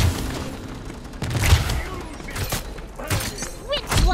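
Weapons fire in the Paladins hero shooter, scattered bursts and thumping impacts near 1.5, 2.5 and 3–4 seconds amid busy game noise and effects, with a voice speaking at times.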